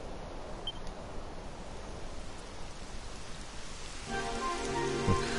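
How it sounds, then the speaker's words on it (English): Rainfall in the video game Dragon Quest XI, a soft, even hiss of falling drops that swells slightly near the end as faint musical tones join in. "It would have to go and start raining, wouldn't it?"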